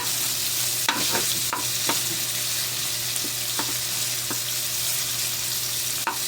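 Ingredients for a mung bean (monggo) vegetable dish sautéing in a pan, giving a constant close sizzle broken by a few sharp scattered knocks of a spoon stirring against the pan.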